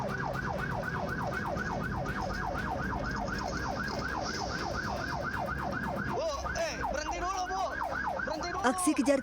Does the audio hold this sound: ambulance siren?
yes